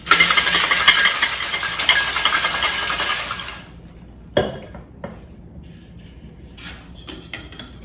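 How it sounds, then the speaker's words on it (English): A cocktail shaker is shaken hard with ice, vodka distilled from grapes and whole grapes, a dense, loud rattling clatter lasting a few seconds before stopping, followed by a few isolated clinks and knocks. "And then we give this a really good shake with some ice."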